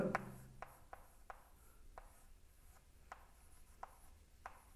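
Chalk or marker writing on a board during a class 10 trigonometry lesson, a series of short scratchy strokes tapping and scraping at irregular intervals, faint and close in a quiet room without talk.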